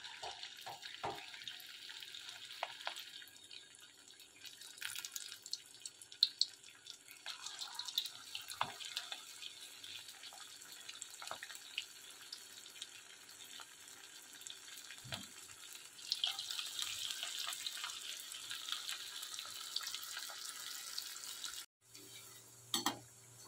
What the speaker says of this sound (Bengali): তেলটা গরম হয়ে গেছে, এবার পকোড়াগুলো আমি ভেজে নেব।